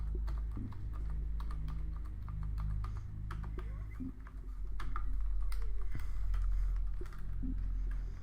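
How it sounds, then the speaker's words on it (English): Computer keyboard typing during a PC game session, a fast, steady run of light clicks and key taps over a low background hum, with no voices. "Still hitting keys on keyboards."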